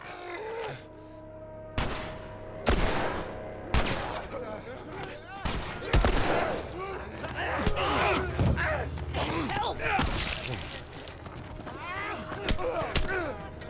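Gunfire in The Last of Us, several sharp shots spaced irregularly among creaks and game noise, fairly close and loud, with a voice talking over parts of it.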